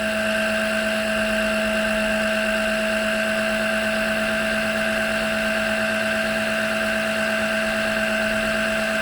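A VW T3 TDI engine runs steadily, drawing in a lot of air, with a loud continuous drone and whine and strong fixed tones holding unchanged throughout, close by and with no speech.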